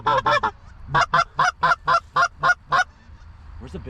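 Honking geese during a goose hunt, loud and close: a pair of calls, then a regular run of about eight evenly spaced honks, with fainter honking from the flock trailing off at the end.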